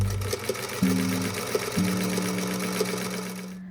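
A sewing machine runs steadily, stitching two fabrics together, with a clear motor hum that shifts pitch as it speeds up and settles, plus soft rhythmic needle ticks, close and alone.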